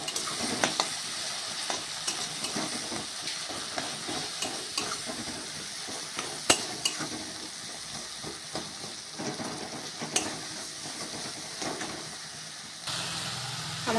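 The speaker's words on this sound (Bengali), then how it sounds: "তো চলো নুন হলুদ লঙ্কা দিয়ে আমি টমেটোটা কষে" Tomatoes with salt, turmeric and chilli fry and sizzle steadily in a pan for a fish curry, with frequent scraping clicks of stirring throughout and no talk.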